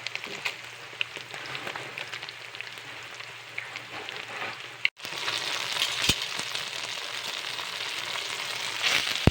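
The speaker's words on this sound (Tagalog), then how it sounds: "I'm frying some of the eggs for garnishing." Eggs frying in a pan as a garnish for stir-fried rice noodles, giving a steady close crackling sizzle throughout, briefly cut off midway and then resuming slightly louder and brighter, with no talk.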